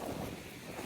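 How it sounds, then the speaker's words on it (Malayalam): Strong, cold wind blowing outdoors in Germany, a steady rushing buffet across the microphone with no voices, moderately quiet and unbroken throughout. "നല്ല കാറ്റുണ്ട്. കാറ്റ് നല്ല തണുപ്പുണ്ട്."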